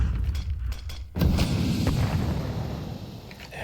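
Glock pistol shots ring out during a professional Counter-Strike 2 tournament match, with a cluster of shots at the start, then a louder boom and a dense, echoing wash of gunfire.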